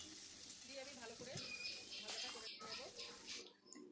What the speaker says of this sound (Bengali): তো আলুগুলো ভালো করে ভাজা করে নেব।